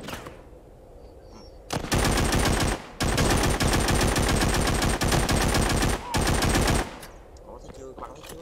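Loud bursts of automatic gunfire from the zombie shooter game The Walking Zombie 2, with several sustained volleys broken by short pauses and quieter game ambience at the start and end.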